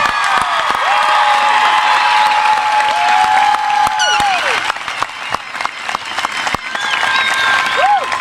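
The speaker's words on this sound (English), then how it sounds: "One more big round of applause for the class of" A high school graduation crowd applauds and cheers for the graduating class of 2025, with loud sustained clapping, whoops and shouted cheers throughout.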